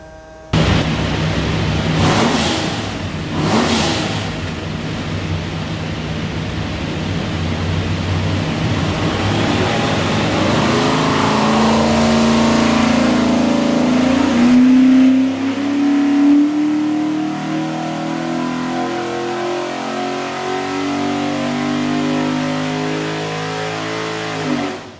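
A Borla stack-injected 427ci small-block Ford V8 making 583 HP, built for a Superformance MKIII, roars on a dyno. It idles and blips, then climbs through a long, loud sweep in revs before dropping back, with no talk.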